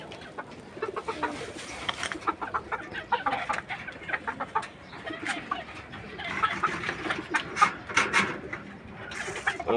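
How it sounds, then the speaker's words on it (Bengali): Desi chickens pecking at rice, clucking and murmuring in a steady busy cluster, with rapid ticking pecks on the ground, close by and without talk. "আমার মুরগিগুলো ভাত অনেক পছন্দ করে খেতে।"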